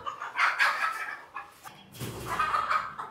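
Chickens on a rooftop farm cluck and squawk in agitated bursts while being caught to be weighed and sold, several birds close by in two waves of noise.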